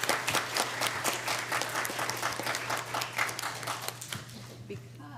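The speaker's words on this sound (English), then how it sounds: "you may give him a round of applause" A room full of people at a WPCS awards ceremony applauds in a dense, steady round of clapping that gradually thins and fades out.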